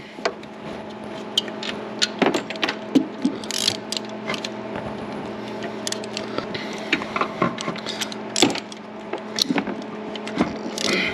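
A ratchet clicks in repeated short bursts up close while unbolting the alternator bolt on a Cadillac CTS, with scattered metallic taps and knocks between strokes.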